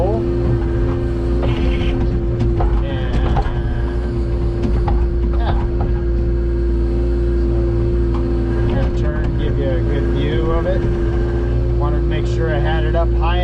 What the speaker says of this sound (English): I'm going to use this machine to dig